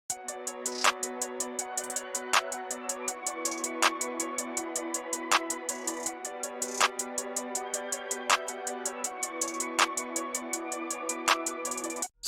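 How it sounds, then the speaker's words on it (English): A rapid, ticking hi-hat pattern programmed in FL Studio for a dark orchestral trap beat runs continuously, with some fine rolls, over steady claps and a sustained orchestral bed. "Next, I added a hi-hat pattern."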